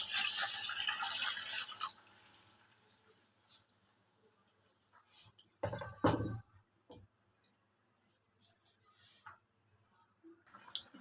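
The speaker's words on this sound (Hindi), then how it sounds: "3 गिलास हम इसमें पानी ऐड करेंगे।" Water is poured into a pot of rice with chicken for white chicken pulao, a brief loud splashing pour at the start followed by faint sloshes, drips and soft clinks in a quiet kitchen.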